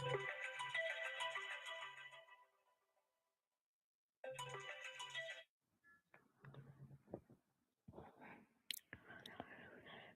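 A phone ringtone plays a repeating electronic tune in short bursts, stops, then rings once more before quiet speech and small rustling noises take over.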